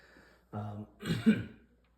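A person coughs and clears their throat close up, two rough bursts in quick succession.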